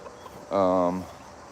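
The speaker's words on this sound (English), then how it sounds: "So there's some bantam roosters, and there's a full-size rooster, Australorp." A rooster lets out a single short, loud vocal call after a quiet stretch, among bantam roosters and a full-size Australorp rooster, with faint background noise around it.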